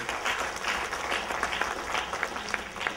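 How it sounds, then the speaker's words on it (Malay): Audience applause at the closing ceremony of a national education seminar honouring presenters and exhibitors, a steady wash of many hands clapping with sharper individual claps standing out, sustained at moderate level throughout. "Marilah kita berikan tepukan yang gemuruh kepada mereka."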